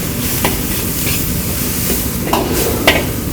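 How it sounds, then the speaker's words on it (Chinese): Beef strips with seasoning stir-fry in a hot wok, giving a steady loud sizzle broken by a few sharp scrapes and clanks of the spatula against the metal. "把这个调味料啊自己把它炒均匀。"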